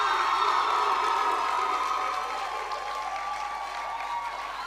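Sustained applause and cheering from an audience at a school valedictory service honouring a churchman and statesman, with a steady, dense wash of clapping that eases slightly after the first few seconds.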